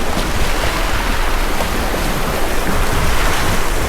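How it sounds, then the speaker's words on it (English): River rafting on the Mo Chhu in Bhutan's Punakha Valley, gentle grade 1 and 2 rapids: a loud, constant rush of water and wind noise fills the scene with no break and no voices. "Today, we are rafting along the crystal clear Mo Chhu River with gentle grade 1 and 2 rapids"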